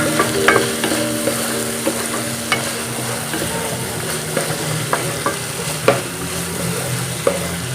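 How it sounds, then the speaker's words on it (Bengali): Fried chicken pieces are stirred in a pan, a steady sizzle broken by scattered scraping clicks of the spatula against the pan, close and clear with no talking. "এবার ভালোভাবে আমি নেড়ে নেব"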